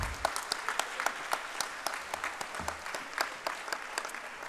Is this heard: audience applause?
yes